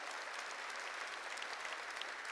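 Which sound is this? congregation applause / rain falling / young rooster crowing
congregation applause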